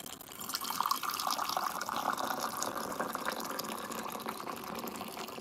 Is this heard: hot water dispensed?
yes